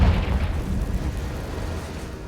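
A Confringo blasting spell explosion in Hogwarts Legacy inside an Acromantula cave, a loud, deep rumbling blast that opens strongly and slowly decays over about two seconds, alone.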